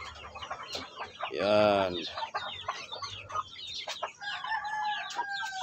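A Shamo Asil rooster in a small backyard gives one loud crow in the middle of a stretch of clucks and chatter from the flock, with someone speaking quietly nearby.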